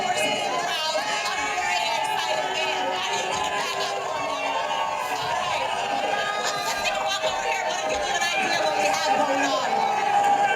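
Dodgers fans celebrating near Dodger Stadium after the World Series fill the air with a steady, close crowd babble, scattered laughter and occasional cheers, with voices talking nearby.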